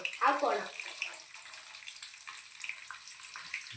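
Onions, peanuts and curry leaves fry in a pan, beginning with a sharp hiss as they hit the oil and settling into a quiet, steady sizzle with faint crackles.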